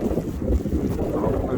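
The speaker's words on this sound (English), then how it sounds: "Can you see the wind blowing?" Wind gusts roar steadily into the microphone during a winter snowstorm walk in Toronto. The loud, continuous buffeting has no breaks and no talk over it.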